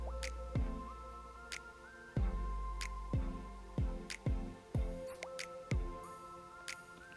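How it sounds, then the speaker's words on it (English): Excess buttermilk drips off a raw chicken piece held over the bowl before flouring for Jamaican fried chicken: soft, irregular drips fall about every half second to a second against a quiet, faintly humming kitchen background. "try to hold the chicken over the buttermilk for a good little minute so that the excess buttermilk can drip off"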